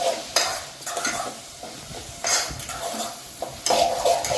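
Tomatoes sauté with salt in a pan for tomato rice, a close sizzle broken by bursts of stirring and utensil scrapes against the pan at irregular intervals, with no talking.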